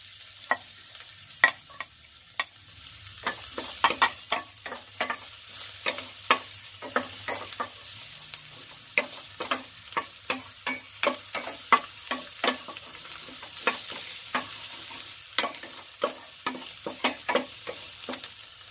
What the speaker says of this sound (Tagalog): Ngayon, igigisa na natin ang ating garlic guys.